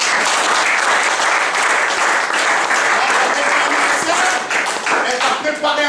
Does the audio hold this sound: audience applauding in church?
yes